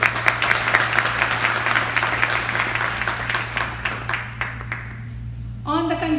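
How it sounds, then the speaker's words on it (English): Audience applause for a mridangam player at a Carnatic music concert in Chennai during the Margazhi season, a dense burst of clapping that fades out over several seconds before a short tonal sound at the end, with a steady hum underneath. "Let's give a big round of applause for the skilled mridangist, please."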